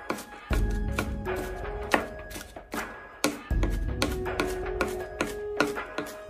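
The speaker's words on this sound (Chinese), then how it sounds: "然后再改刀剁成蒜末" Garlic is minced finely with a knife on a board, giving a close run of sharp chopping knocks in an uneven rhythm, some strokes heavier than others, with no voices.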